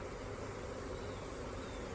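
Honey bees hum steadily around a frame lifted from a hive as a nuc is moved into a ten-frame medium box, a soft, continuous close buzz with no talking.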